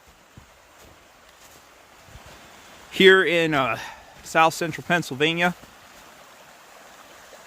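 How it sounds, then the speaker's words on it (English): A small woodland creek in south central Pennsylvania runs with a steady, soft broadband rush of water in the background, continuous and moderately distant, while someone talks over it. "You hear water running. We're approaching Tom's Run."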